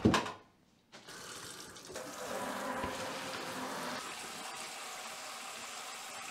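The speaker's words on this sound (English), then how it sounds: "So I fill one bucket up." Tap water runs into a bucket being filled for mixing plaster, a steady splashing flow after a brief opening knock, close and continuous with a low hum beneath.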